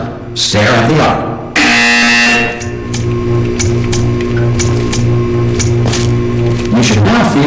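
A buzzer sounds in the video game Portal, a steady droning electronic tone with a low hum that persists for several seconds, loud and continuous under occasional voice-like sounds.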